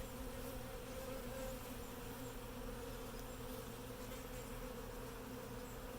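Honey bees buzzing steadily around a newly installed Flow Hive, a dense continuous hum of many wings with no break, fairly close and uniform in level throughout.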